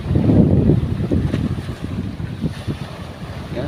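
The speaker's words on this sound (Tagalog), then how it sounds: "Lalaki ng alon mga bro, sana kumalma." Rough sea off a fishing boat: heavy wind gusts rumble against the microphone while large waves wash and slosh, loud and close at first, then easing slightly, with no talking.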